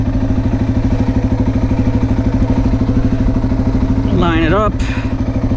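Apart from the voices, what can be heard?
motorcycle engine riding up ramp into pickup truck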